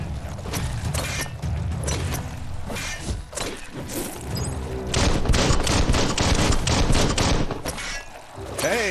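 Gunfire in the Biomutant video game on PS5 comes as dense, repeated bursts of shots and impacts layered with heavy game effects and music, loud and continuous throughout with a brief fuller stretch in the second half.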